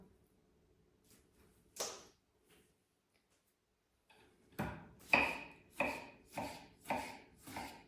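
A knife dices tomatoes on a cutting board, first with a couple of isolated cuts, then a steady run of six firm, evenly spaced strokes.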